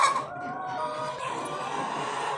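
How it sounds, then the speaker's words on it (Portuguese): Laying hens cluck steadily inside a henhouse near new nesting boxes, a close, continuous chorus of soft clucks and calls with a louder squawk at the start. "As galinhas estão aqui botando."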